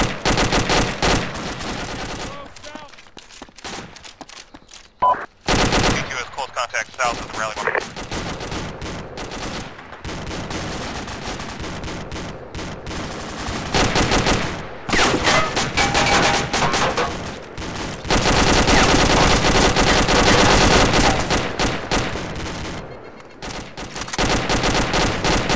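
Machine gun fire from a technical in a combat game comes in repeated loud, sustained bursts. Brief pauses and changes in intensity break it up over about twenty-five seconds.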